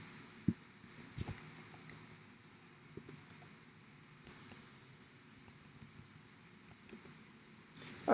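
Sparse computer mouse clicks during a UI design session, a few sharp faint taps scattered over a quiet room hum, with one cluster of quick clicks near the start.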